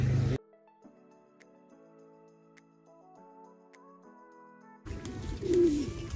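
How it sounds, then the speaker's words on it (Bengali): Pet pigeons kept in a jungle resort at Bandipur give a low coo near the end, heard nearby against background noise, after a stretch of soft electronic-sounding tones. "এগুলো পায়রা, এখানে পোষা পায়রা"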